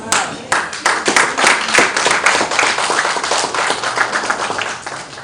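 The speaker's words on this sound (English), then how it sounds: "those that are clapping hands are the platinum subscribers" Audience members at a launch gala clap their hands in a loose, uneven burst of distinct sharp claps, fairly close and irregular rather than a smooth roar, with a little voice mixed underneath.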